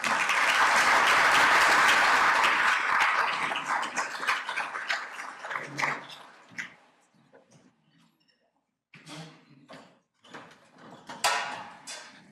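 Audience applause at a Rotary Club luncheon welcoming a speaker: a loud burst of clapping that swells, then thins into scattered claps and fades out.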